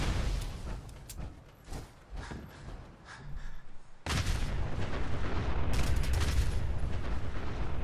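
Video game gunfire in Fallout 4, aimed at the ground: scattered sharp shots and rumbling booms, then a sudden, louder sustained barrage of bursts.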